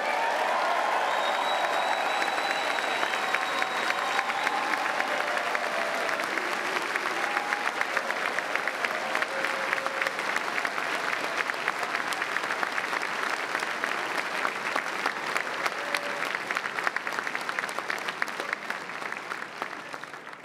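Large convention audience of the Conservative Party of Canada applauding Maxime Bernier, sustained dense clapping from a big crowd that holds steady for about twenty seconds before slightly easing, with faint voices early on.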